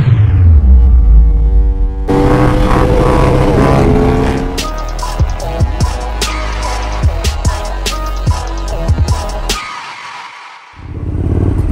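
A KTM Super Duke 1290 motorcycle being ridden, its engine loud and close with a steady roar broken by sharp revving bursts and gear changes, then quickly fading.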